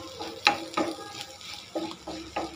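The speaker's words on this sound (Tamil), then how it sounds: "மிளகு தூள் சேர்த்துட்டு நல்லா ஒரு கலக்கு கலக்கிங்க." Spoon stirring egg and drumstick leaves with pepper powder in a frying pan, a few distinct scraping strokes over a soft sizzle, close and moderately quiet.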